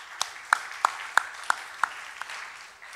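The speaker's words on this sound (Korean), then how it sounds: "수고하셨다고 서로를 위해 박수 한번 하시죠." A church congregation applauds one another after a youth camp, a sparse handful of distinct claps in an even rhythm, roughly seven beats over a few seconds, fading out at the end.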